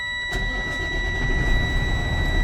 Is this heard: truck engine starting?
yes